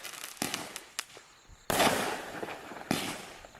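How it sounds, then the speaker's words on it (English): Aldi consumer fireworks bursting into aerial breaks, with a series of sharp crackling pops followed by two loud, close booming bursts that trail off, no voices. "Now these are slightly bigger breaks."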